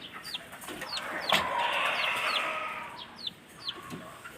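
Native chickens, a hen and a young cockerel about three months old, cluck and call in short repeated chirps over a steady outdoor background, fairly close and moderately loud.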